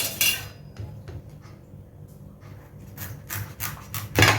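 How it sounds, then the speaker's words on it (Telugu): A kitchen knife chops pumpkin into small pieces, giving a few sharp, irregular clicks and knocks against the board with quiet scraping between them, close and fairly soft. "ఇలా కొంచెం అట్టంగా చిన్న చిన్న ముక్కలు తీసేసేసి తర్వాత వాటిని ఇంకా హాఫ్ పీసులు చేసుకోవాలి."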